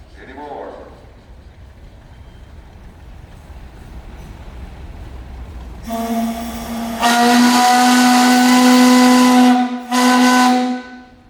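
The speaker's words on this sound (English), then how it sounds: "Okay, and you got a whistle." A steam whistle on a tandem compound steam traction engine at a parade blows loud and close, opening with a sustained tone that cuts off briefly before a second blast, with hissing steam and crowd noise beforehand.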